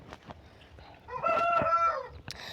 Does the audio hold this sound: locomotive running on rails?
no